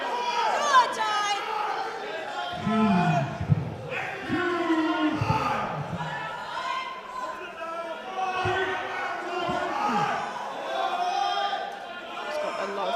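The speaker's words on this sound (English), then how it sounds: "He's got a lot of cheering from the crowd." Crowd cheering at a British university powerlifting championship, 93 kg men's session, as a lifter attempts a 300 kg lift: loud, sustained overlapping shouts and chanting voices close by, with rising yells throughout.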